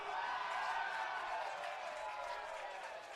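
Home rugby crowd cheering and applauding after a freshman scores a try against Davenport University, a steady, dense wash of cheers and clapping that stays loud throughout and eases slightly toward the end.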